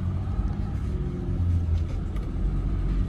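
A BMW E30 hardtop idles a little high with its oil control valve still unreplaced, a steady low engine rumble heard up close with no talk over it.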